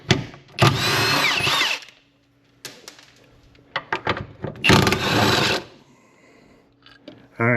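An impact tool on its high-torque setting hammers at a driveshaft carrier bearing bolt on a Ford Explorer ST, with two loud rattling bursts of about a second each separated by clanks and brief talk.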